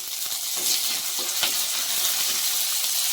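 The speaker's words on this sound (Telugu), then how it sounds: "ఇప్పుడైతే కరివేపాకు వేసుకుందాం." Curry leaves fry with onions in a pan for a ridge gourd and milk curry, making a steady, hissing sizzle at moderate loudness, with occasional light spatters and no talk.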